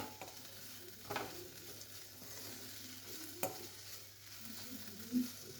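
Okra and brinjal are stir-fried with salt in a pan, a faint low sizzle broken by a few soft spatula scrapes and knocks at irregular intervals.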